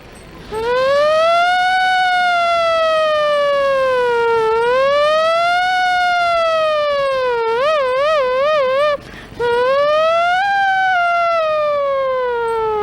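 A voice imitates an ambulance siren, with rising and falling wails and a rapid warbling section, loud and close.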